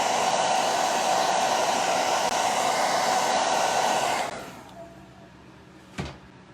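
A handheld heat tool blows loudly and steadily to dry paint on a stenciled dollar-store pizza pan, then cuts off abruptly, leaving quiet room tone and a single soft knock.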